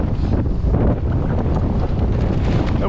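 Strong wind of around 30 knots roars across a microphone aboard a 16-foot trailer sailer, a loud continuous buffeting rush with no pauses.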